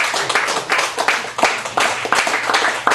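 Audience at a cafe gallery performance in Chicago clapping steadily, a dense close round of applause with uneven bursts lasting the whole moment.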